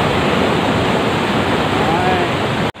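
A mountain stream rushing in a rural Vietnamese countryside in winter, a loud, steady broadband roar of flowing water close to the microphone that runs without a break before cutting off abruptly.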